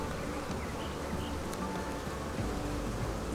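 Dense, steady buzzing of many hot, defensive honeybees swarming around an opened hive during an inspection in a bee yard, a continuous close drone with no talk.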